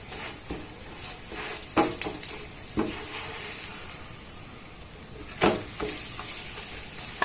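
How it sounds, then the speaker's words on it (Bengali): A paneer paratha frying in a little oil on a pan, making a soft, continuous sizzle close by, with several brief louder crackles and pan scrapes, and no talking. "এবার আমি উপর থেকে একটু তেল দিয়ে দেব।"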